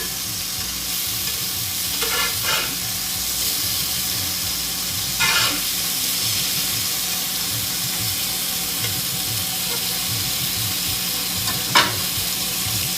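Turkey burgers fry in a pan with a steady loud sizzle and hiss, marked by a few brief scrapes and clinks of a utensil; no one speaks.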